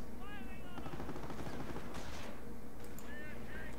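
Machine gun fire in Company of Heroes, a World War II strategy game, rattling in steady dense bursts beneath constant battlefield noise, with a voice talking over it.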